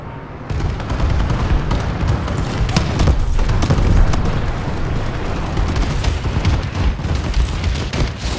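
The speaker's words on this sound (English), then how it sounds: "Friendly bombing run clearing the way." A friendly bombing run in Call of Duty: Advanced Warfare sets off loud, rolling explosions and booming impacts one after another, joined by crackling gunfire in a dense, sustained battlefield roar.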